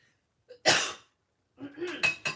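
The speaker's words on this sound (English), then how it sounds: "Coughing into my shoulder, by the way." A sharp cough into a shoulder bursts out, followed after a pause by a few more rough coughs and throat noises, close and clear.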